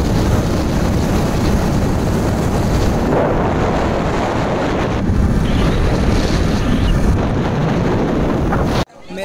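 Heavy wind buffeting the microphone while riding a motorbike on a road toward Nagaur, a constant loud roar and rumble that cuts off sharply near the end.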